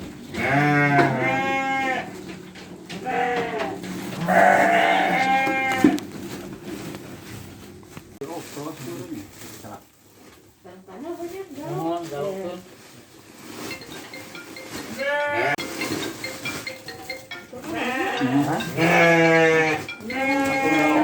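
Sheep on a village farm give repeated loud, wavering bleats, near and frequent across the stretch, mixed with other livestock sounds while people talk in between.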